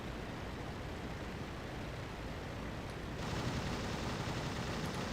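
Rapid, continuous biplane machine gun fire from the World War I flight game Rise of Flight, a dense steady rattle over engine drone that grows slightly louder and harsher partway through.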